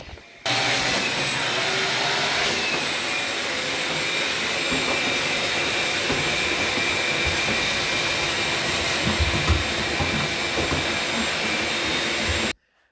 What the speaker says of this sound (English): The vacuum is already plugged in.